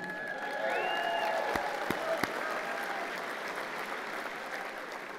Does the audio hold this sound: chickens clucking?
no